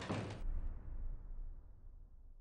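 A door shuts in a tense film scene from Zodiac, one short muffled thud at the start that then fades into a quiet, low room tone.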